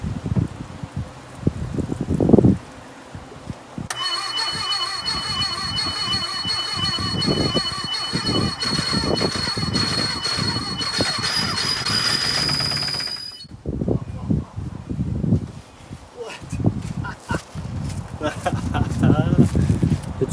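An engine in a 1976 Porsche 914 with a VW Type 4 motor, being started for the first time in 30 years, cranks with a sustained high-pitched metallic squeal for several seconds, loud and close, while people talk around it.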